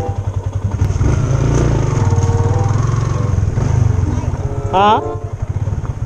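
A motorcycle engine idles and revs nearby on a rural road near a river waterfall in Bukidnon, Philippines, with a steady loud throbbing drone. People talk briefly over it, and a short high whine rises near the end.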